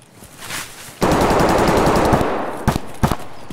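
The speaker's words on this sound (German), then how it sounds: "Ich werde beschossen von einem." Automatic gunfire rattles in Escape from Tarkov near a factory, a short burst and then a long rapid stream of close, loud shots, followed by two separate single cracks.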